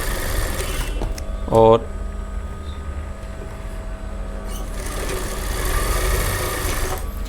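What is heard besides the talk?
sewing machine stitching a frill on a top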